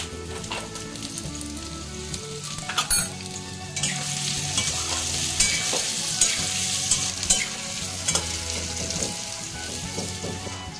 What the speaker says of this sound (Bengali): আলু ভাজার সময় একটু হলুদ দিচ্ছি